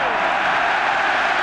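Stadium crowd at a Denmark v England football match applauding and cheering a touch from the England captain, a steady broad wash of clapping and crowd noise throughout with no break.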